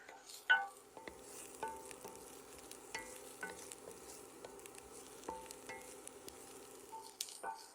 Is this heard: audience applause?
no